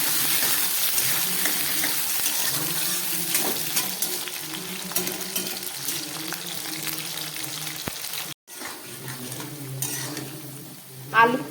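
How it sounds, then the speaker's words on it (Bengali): Potato pieces frying in hot oil for a vegetarian dish, a steady close sizzle and bubbling with occasional stirring scrapes and a brief pause before the crackle resumes. "এই আলুটাকে খুব ভালো করে এবারে ভেজে নেব।"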